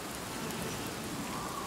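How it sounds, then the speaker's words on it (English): Steady rain falls across a swamp-like world in the video game Blacktail, a soft, even hiss of drops with no break over the short stretch and no voices. "The fact that it's raining kind of makes me nervous."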